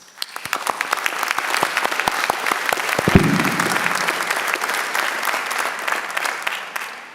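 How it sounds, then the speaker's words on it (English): Sustained audience applause at a university graduation ceremony for the Faculty of Health and Education, a dense crowd clapping steadily for about seven seconds, with a few sharp individual claps at the start before it swells. "this deserves a round of applause"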